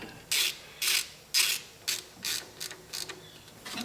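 A hand ratchet tightens bolts during an ignition system replacement on a 1976 Cadillac Eldorado, giving about eight short, crisp clicking bursts in a quick steady rhythm, close and alone.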